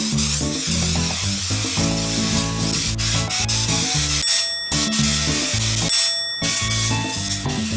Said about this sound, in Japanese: とりあえず滑るスプレーを床に塗っていきます